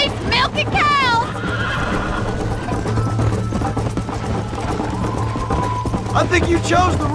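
Horses whinny loudly in the Red Dead Redemption game, sharp neighs near the start and end over steady galloping hoofbeats and music, with voices talking throughout.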